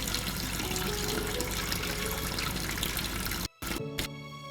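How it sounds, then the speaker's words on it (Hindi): Water runs steadily from a tap in a continuous broadband rush, then cuts off abruptly near the end, with a short burst and quieter trickling afterward. "पानी बह रहा था।"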